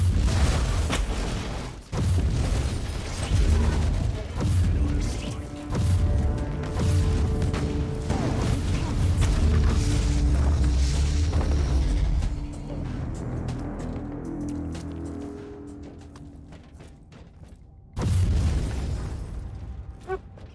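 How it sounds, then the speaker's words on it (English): Explosions from a blast ability rip through enemies and collapse columns and walls in Warhammer 40K Inquisitor, loud repeated booms and crashing debris for most of the stretch, fading into scattered rumbles before one more heavy burst near the end. "blast can wipe out multiple enemies and collapse structures like columns or walls for even more damage"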